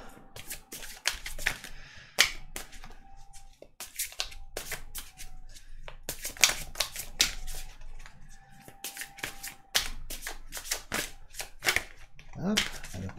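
Tarot cards are shuffled by hand in quick, irregular bursts of crisp riffling and slapping, close and fairly soft, with a voice speaking intermittently between the shuffles.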